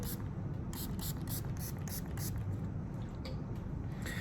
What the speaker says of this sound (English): douse the inner slide with the spray bottle